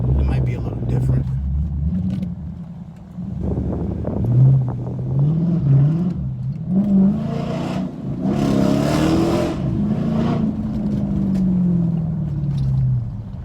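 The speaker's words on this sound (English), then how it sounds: "I want you all to hear my exhaust." A Dodge Challenger fitted with new quad exhaust tips revs up repeatedly, its loud, close engine note rising and falling in waves over about thirteen seconds.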